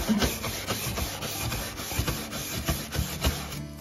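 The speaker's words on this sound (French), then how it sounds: "comme je le blanchis bien, comme il se réclaircit avec ma brosse bronze" A bronze-bristled brush scrubs a decorative object being cleaned, giving a steady, close, gritty rubbing with rhythmic back-and-forth strokes of fairly even loudness, with no talking.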